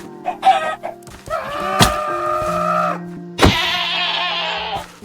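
Minecraft sheep in FTB Skies 2 bleat in several loud, close calls, some long and wavering, mixed with other farm-animal sounds over a low background hum.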